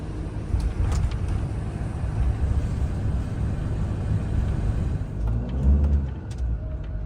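Steady road rumble from inside a moving camper bus heading up to the moors, with other vehicles swishing past close by near the middle and end, a louder low surge toward the close.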